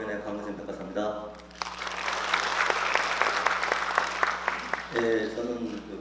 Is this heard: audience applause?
yes